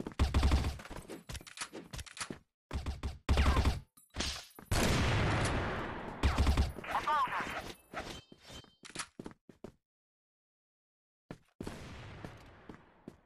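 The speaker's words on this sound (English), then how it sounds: "Sniper yan." Sniper rifle gunfire in a video game, sharp loud cracks in irregular bursts with short gaps, separated by stretches of near silence, and a faint voice murmuring briefly.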